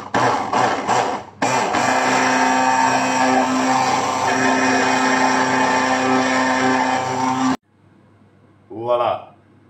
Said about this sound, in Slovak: A trošku mixneme aj s tým cesnákom.